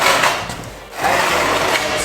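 A wooden workbench frame being flipped over, heard as a loud scraping, rubbing slide of wood, a short pause, then a second longer rumbling scrape, close by and with no talking.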